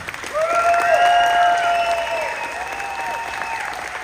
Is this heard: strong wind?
no